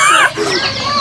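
Native chickens cluck and call up close while being fed manapack rice, a short burst of bright squawks that eases into softer murmuring.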